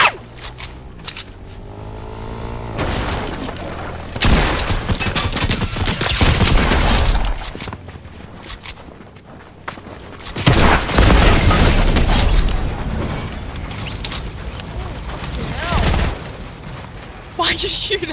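Gunfire in the Fortnite video game, bursts of rapid shots and heavy booms that swell and fade in waves across the clip, with players talking over the action.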